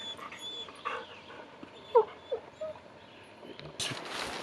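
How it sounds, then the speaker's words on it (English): A campground dog on a Maine backpacking trip gives a few soft whimpers and yips at close range over faint outdoor background, with a louder rustle near the end. "This is my dog Woody, the campground dog"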